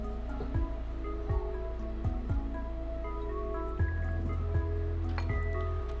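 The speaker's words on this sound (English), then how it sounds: "Add some milk into it." Milk poured into a bowl with an egg for crepe batter, heard as a series of close, distinct liquid drips and plops with a light trickle underneath.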